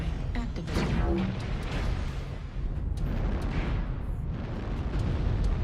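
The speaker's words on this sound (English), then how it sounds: "Airstrike activated." Airstrike explosions in a video game: a run of deep rumbling booms and blasts, loud and continuous, rolling into one another.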